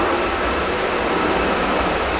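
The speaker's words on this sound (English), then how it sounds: "Plane, I know, it's by the airport. Very noisy." A plane flies low overhead near an airport, a steady broadband roar that fills the whole clip at a constant loud level with no voices.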